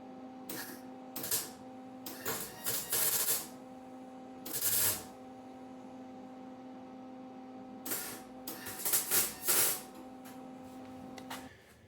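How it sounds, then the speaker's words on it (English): Bracing cage for a car body rotisserie being welded, short hissing, crackling bursts of the welding arc broken by pauses, with a steady electrical hum running underneath throughout. "So now I'm going to weld it. Actually, I'm going to weld them both."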